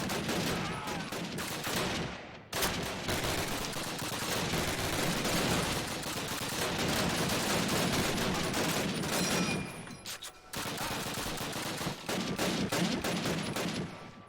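Sustained gunfire in the Call of Duty Bastogne bunker level, dense rapid bursts of rifle and machine-gun shots rattling almost continuously, with brief breaks near the start and middle.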